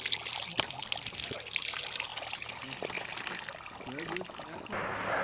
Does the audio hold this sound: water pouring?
yes